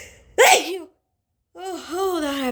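Two forced sneezes, brought on with a Q-tip, tissue and turmeric, come up close and loud, a sharp burst followed by silence and then a longer, drawn-out second sneeze.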